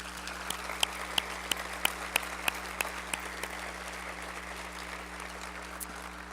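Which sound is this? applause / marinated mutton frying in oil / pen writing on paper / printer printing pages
applause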